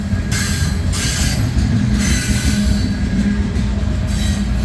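CSX freight train with loaded refrigerated Tropicana cars rolling past, a steady loud rumble of wheels and rail noise with a continuous hiss of cooling fans, no voices.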